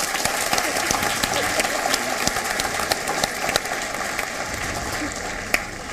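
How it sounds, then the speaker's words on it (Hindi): An audience in a hall applauds a poet at a Republic Day kavi sammelan, a steady dense clapping that runs throughout at a moderate level, with a few sharper individual claps standing out near the end. "एक बार पूरा सदन जोरदार तालियां देकर सम्मानित करें"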